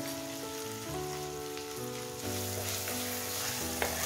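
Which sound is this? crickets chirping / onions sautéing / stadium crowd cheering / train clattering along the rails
onions sautéing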